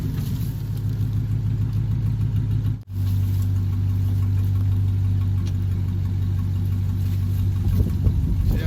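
A truck engine idling and pulling a strapped load during a wood yard cleanup, a steady close mid-pitched rumble with a brief dropout, then a slight rise toward the end.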